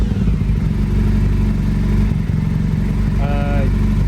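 A motorcycle engine idles steadily at about 1200 rpm, a loud, close, even low rumble, with a brief whine rising near the end.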